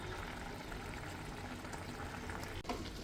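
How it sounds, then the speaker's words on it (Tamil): Fish curry bubbling at a steady boil in an open pan, Kerala-style sardine dish, a dense continuous simmering hiss with a brief dip near the end. "பாருங்கள் எப்படி கொதிக்குது."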